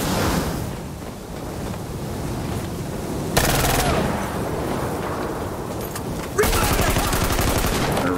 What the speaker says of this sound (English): you're gonna win most encounters because of the rate of fire of this gun